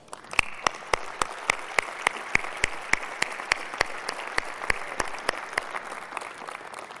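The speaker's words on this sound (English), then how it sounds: "I think we owe the team at Sony a round of applause." Audience applause at the Sony E3 2005 press conference, a steady burst of clapping sustained for several seconds with sharp, regular claps standing out near the microphone over the crowd wash.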